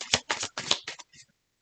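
A deck of cards being shuffled during a tarot-style reading, a few quick riffling bursts close up, then quiet at the end.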